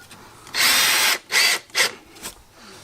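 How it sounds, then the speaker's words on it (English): Power drill driving screws at an angle into fence palings for a garden boardwalk: two long whirring bursts then a shorter one and a brief blip, loud and close, no talk. "by screwing the screws in like this at an angle, that will help bind it together all the more tightly"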